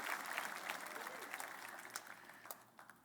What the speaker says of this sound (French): Une bonne main d'applaudissement pour l'amour qui bannit la crainte